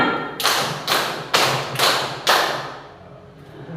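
A group claps in unison five times in an even rhythm during a clapping concentration game, each sharp burst loud and close, followed by a short fading tail.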